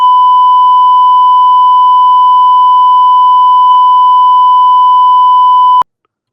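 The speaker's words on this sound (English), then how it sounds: "I'm gonna bleep this part out" A loud, steady electronic censor bleep tone covers a spoken phone number, holding unbroken for about six seconds before cutting off abruptly.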